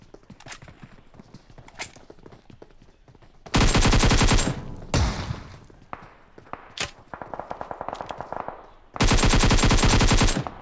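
Gunfire in the mobile battle royale game BGMI: loud sustained automatic bursts alternate with scattered single shots and footstep-like taps, all game audio with no speech.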